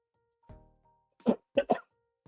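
A man coughs into a close microphone: a short throat-clearing burst, a pause, then two quick harsh coughs and a faint final one, with no talk.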